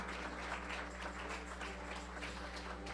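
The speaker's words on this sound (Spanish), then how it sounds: "Dele un aplauso al Señor, dele un aplauso a Dios" A church congregation applauds the Lord during a Spanish-language service, a faint, steady wash of clapping heard from a distance over a low electrical hum.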